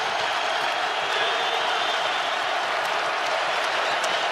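A basketball crowd in Omaha at a Creighton home game against UConn keeps up a steady, dense roar of cheering and applause from start to finish, with no clear pauses.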